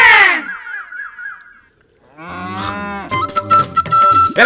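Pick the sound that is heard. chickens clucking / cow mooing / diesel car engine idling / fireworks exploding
cow mooing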